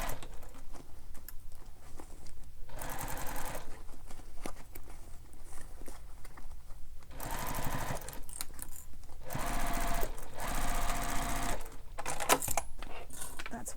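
A sewing machine stitches the corner of a Bella Bag in several separate runs of rapid, even needle chatter, close and moderately loud, with quiet pauses between the bursts.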